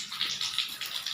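Water gushes from a pump used to water vegetables on a farm during a dry spell, a steady, close hissing splash with slight pulsing over a brief moment.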